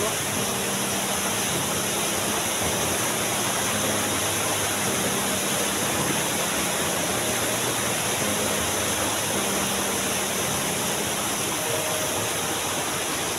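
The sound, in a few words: Badkaguda waterfall rushing water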